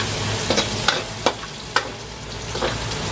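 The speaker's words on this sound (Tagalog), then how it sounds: "Haluin hanggang sa maluto." Metal spoon stirring dinuguan, a Filipino pork blood stew, in a pan, giving a handful of sharp scraping clicks at an irregular pace over a low steady sizzle, with no talking.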